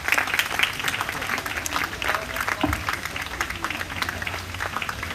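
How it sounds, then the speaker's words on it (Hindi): A church congregation applauds loudly for the servants of the Lord, steady crowded clapping filling the room for several seconds. "जोरदार ताली प्रभु के दासों के लिए"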